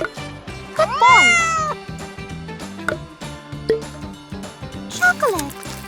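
A cat meows several times, a long rising-falling call near the start and another near the end, close and clear over clicking, ratcheting noises from a miniature cooking setup; no speech.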